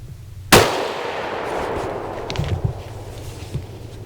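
A single sharp rifle shot cracks out loudly during a New York deer hunt, then rolls away in a long echoing decay over quiet woodland.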